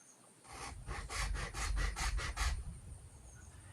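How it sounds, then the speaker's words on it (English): A square file rasps across a dogwood arrow shaft in about eight steady back-and-forth strokes, close and fairly loud, before the filing stops. "Now I'm going to take the square file and I'm going to get on this 26 1/2 inch mark, putting the square file on the angle."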